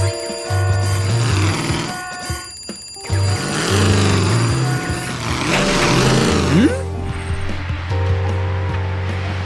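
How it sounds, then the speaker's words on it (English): An alarm rings in a monster truck cartoon, a steady electronic ringing tone that repeats under music and sound effects and runs continuously through the scene. "Your alarm's ringing, Maverick."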